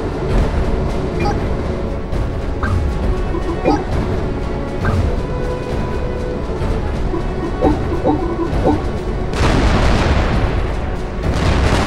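Tanks and a commander unit in Supreme Commander 2 attack enemy energy buildings, with a dense, continuous wash of weapon fire and booming explosions throughout, growing louder and fuller near the end.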